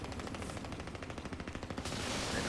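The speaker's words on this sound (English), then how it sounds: "above me I can hear some dudes shooting" Rapid automatic gunfire in the Crysis 2 video game rattles in a fast, steady burst of shots from enemies above, fairly loud, then gives way to a broad noisy wash near the end.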